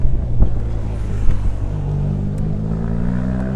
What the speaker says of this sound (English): we'll have a few seconds of bikes flashing by